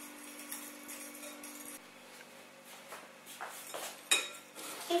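Muffin batter of whole egg and other ingredients being stirred in a bowl gives soft, close scraping and rubbing with light utensil taps against the bowl, plus one sharper clink near the end. There is no talking.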